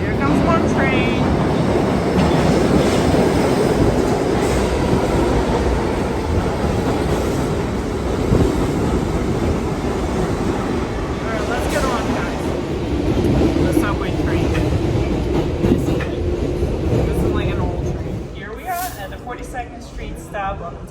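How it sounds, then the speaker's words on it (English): New York City subway train pulling into the Grand Central station platform, a loud rumbling roar with screeching wheels and rattling cars, with people talking over it and the noise easing near the end. "Here comes 1 train."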